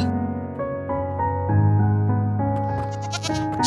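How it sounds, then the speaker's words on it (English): A screaming goat in the Minecraft video game lets out a series of loud, harmonic, wavering bleats, several calls in a row with a strained, shrill edge near the end. "There is another type of goat in Minecraft known as screaming goat."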